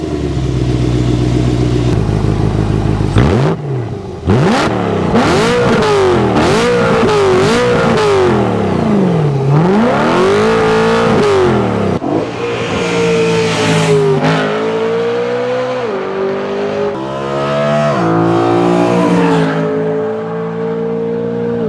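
BMW M3 Competition E92 engine and exhaust revving hard: a loud, close V8 howl that climbs and falls through repeated rev sweeps, with sharp throttle blips and a brief dip in between, and no voices.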